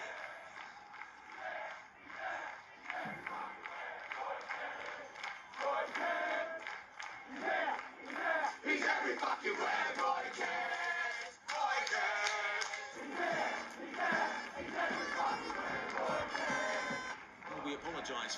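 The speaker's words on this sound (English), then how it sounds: "the crowd serenades Roy Kent with a song that's echoed through the Premier League for more than a decade" A large football crowd chants a song in unison for Premier League footballer Roy Kent, a dense, continuous mass of voices rising and falling through the stands with rhythmic swells.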